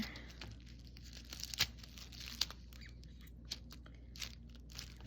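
A sticker is peeled and pressed into a paper planner, giving faint crinkles and a couple of small, sharp paper clicks. The handling sounds are quiet and close against a low background hum, with no talking.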